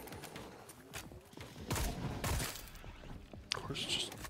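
Gunfire in the horror shooter Sker Ritual, a run of sharp shots and bursts that come and go, loudest in the middle and with one crisp crack near the end, under a busy game soundscape with a voice talking at times.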